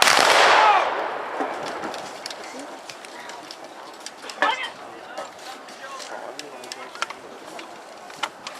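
A volley of rifle fire from a line of Civil War reenactors cracks out loudly in one burst, then trails off into scattered distant pops and crackles under outdoor ambience.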